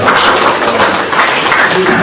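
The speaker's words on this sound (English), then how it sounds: "give yourselves a round of applause" Conference audience applause, a dense continuous wash of many hands clapping at once, loud and sustained throughout.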